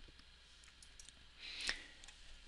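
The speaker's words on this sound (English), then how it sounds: "And I clicked it once." A single computer mouse click lands sharply amid a faint quiet room tone while working in Chief Architect design software, with a couple of softer ticks around it.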